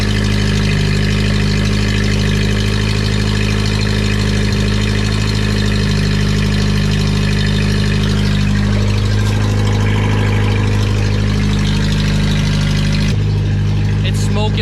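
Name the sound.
car engine idling after first start-up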